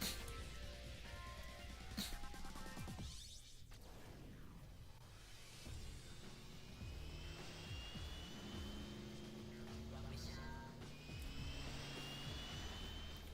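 The jet engine of Six Machine in the video game Viewtiful Joe 2 gives a loud, continuous roar with a sweeping whoosh, sustained throughout and layered with other game sounds.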